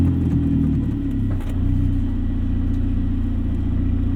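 A 2005 VW Jetta GLI 1.8T turbo engine starting and idling, a steady low rumbling hum with a brief dip early on, close and continuous without talk.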